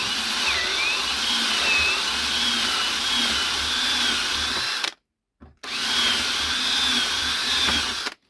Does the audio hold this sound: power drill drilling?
yes